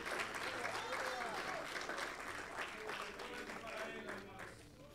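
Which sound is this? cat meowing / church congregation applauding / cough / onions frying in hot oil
church congregation applauding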